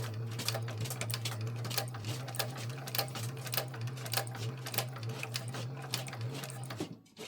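A sewing machine stitching a 3/8-inch seam on a fabric pouch, with a steady mechanical whir and rapid ticking needle strokes that run continuously and stop near the end, alone and close.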